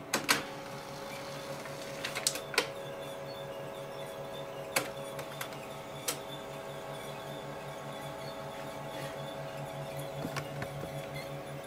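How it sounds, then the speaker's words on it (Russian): A Canon FC128 copier runs a copy after cleaning, giving a steady mechanical whir with a constant hum and sharp clicks and clacks from its mechanism scattered throughout. "Включаем наш копир, ставим листочек,"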